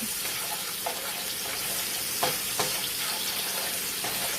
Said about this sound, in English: heat the garlic up until it becomes fragrant